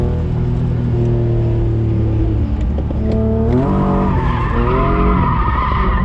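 A BMW E36 drifts at a track event, tires squealing loudly and continuously over a revving engine, the pitch rising and bending as the car slides through the corner.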